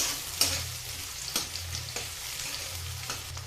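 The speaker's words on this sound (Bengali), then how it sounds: "পেঁয়াজটা হালকা একটু মেরে দিচ্ছি" Onion sautéing in a pan with cumin tempering, a quiet steady sizzle punctuated by occasional spoon taps and scrapes, close up, with a low hum underneath and no talking.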